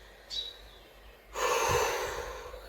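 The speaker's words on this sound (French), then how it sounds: "Dernière inspire, dernière expire, on relâche." A deep breath during a beginner abs workout: a short sharp inhale near the start, a pause, then a long, loud, breathy exhale that slowly fades, close to the listener.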